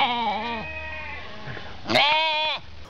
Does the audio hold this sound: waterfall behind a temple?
no